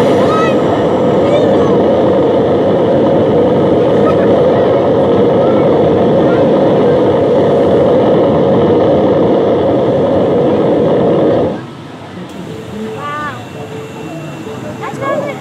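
A dense, loud roar of simulated space shuttle main engines at a Lego shuttle display rumbles continuously, then cuts off abruptly, leaving quieter background noise and a voice speaking.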